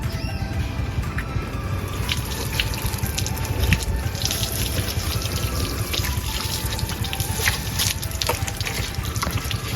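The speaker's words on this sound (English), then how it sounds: "the motorcycle is being rinsed by the water" Running water splashes over a motorcycle during a rinse, a steady close spray with scattered droplet spatters and trickles throughout, without pause.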